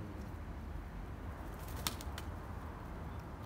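A flock of tumbler pigeons flies near a tall building, with a brief cluster of wing claps in the middle over steady outdoor background noise.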